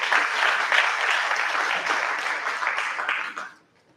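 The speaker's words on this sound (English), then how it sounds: "A round of applause for him." An audience at a Nigerian event about apple growing applauds a presenter with a dense, even round of clapping that holds for several seconds and then quickly dies away.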